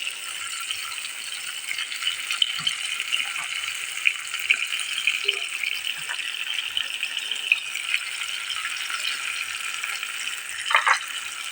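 Spicy menemen with tomato sauce fries quietly in a pan, giving a soft continuous hiss with faint scattered pops and light rattles throughout.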